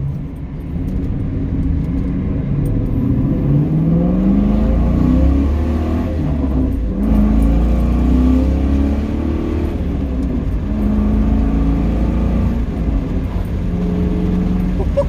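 A 1999-2004 Ford Mustang GT with a newly fitted short throw shifter rumbles steadily from the cabin while driving, its engine note rising and falling through gear changes and revs, loud and continuous with no talk.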